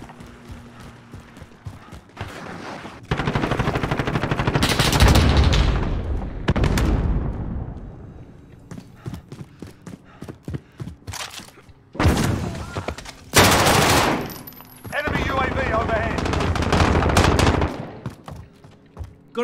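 Automatic machine-gun fire in a first-person shooter video game comes in loud, dense bursts separated by quieter stretches with single shots, clicks and mechanical handling sounds.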